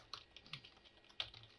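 Computer keys are tapped in short, irregular bursts, quiet and close, with a few sharper clacks and no one talking.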